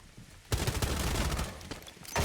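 Rapid gunfire in the tactical shooter Rainbow Six Siege during a competitive collegiate match, a dense sustained burst of automatic shots close up, briefly pausing then resuming at the end.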